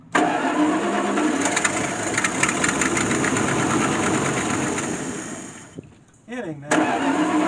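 A Dodge D600 truck engine starting for the first time cranks and catches, then runs with a rough, loud mid-pitched rumble. It dips and sputters briefly near the end before picking back up, while voices are heard over it.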